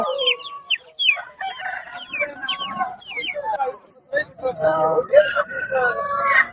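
Many chickens cluck and squawk with a rooster crowing amid a busy crowd at a weekly livestock market in Erode district, India, voices chattering nearby throughout.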